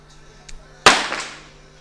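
A single sharp 50m pistol shot cracks close by in a men's shooting final at the ISSF World Cup in Munich, followed by a fading echo in a quiet hall.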